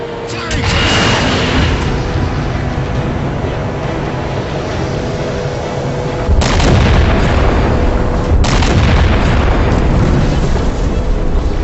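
Heavy weapon fire and booming blasts in the Halo 4 campaign, a loud continuous barrage with sharp fresh impacts landing around six and eight and a half seconds, dense and rumbling throughout.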